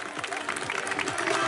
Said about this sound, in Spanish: Fuerte aplauso ahí.